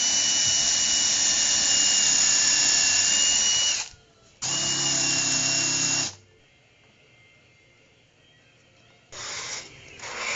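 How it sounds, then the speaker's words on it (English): A power drill drives 2-inch drywall screws through two layers of wood into a side rail, with two loud sustained whining bursts, a pause, then a shorter third burst starting near the end. "I'm going to screw it together with 2-inch drywall screws."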